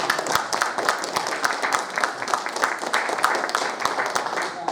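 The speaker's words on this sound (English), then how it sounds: "Please give a round of applause for Mark Cale." Audience clapping at a retro gaming expo in Blackpool as an interview guest is welcomed, brisk, dense applause with some sharp individual claps standing out nearby, continuing evenly throughout.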